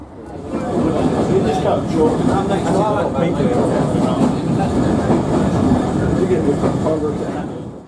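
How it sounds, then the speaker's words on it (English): English Electric Type 1 Class 20 diesel locomotive D8098 rolls into Quorn and Woodhouse station on the Great Central Railway, its loud, close rumble and rhythmic wheel clatter holding steady throughout. "an English Electric Type 1 Class 20 heads into the station, number D8098"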